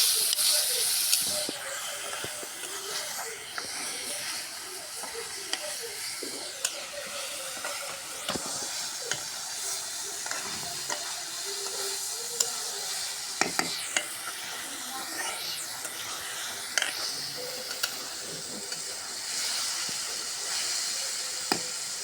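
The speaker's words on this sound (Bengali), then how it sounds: "মশলার সাথে ডিমটা সুন্দর করে কষে নিচ্ছি" Egg being stir-fried with cumin and spices in a pan for a Bengali egg bhuna, a steady soft sizzle and hiss with occasional stirring scrapes and clicks, close and continuous with no talking.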